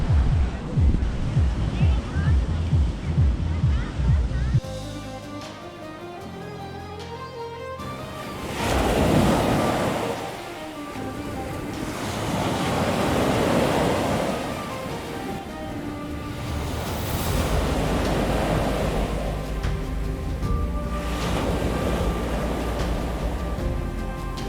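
Surf washing onto a white sand beach on the Konkan coast at Vengurla, breaking in broad repeated swells with steady wind noise; brief music sits at the start, with no talk over the waves.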